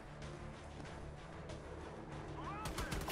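Sustained turret gunfire in a military shooter game set among Army Rangers in Somalia, a dense continuous stream of shots over low rumble, growing harsher and louder in the final half second.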